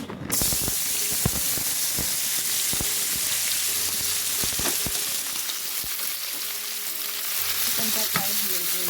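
Marinated, spiced, half-boiled chicken frying in a pan with chickpeas for a tandoori chicken wrap, a steady loud sizzle with crackling pops and occasional stirring scrapes, no voices.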